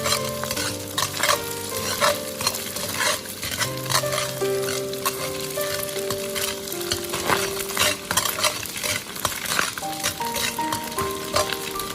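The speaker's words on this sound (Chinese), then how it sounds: "油热之后下入鸡蛋，将鸡蛋快速的搅散，将鸡蛋炒香，炒出香味" Eggs stir-fried in hot cooking oil in a wok for egg fried rice: a steady loud sizzle with repeated scraping and clinking of a spatula stirring throughout, no voices.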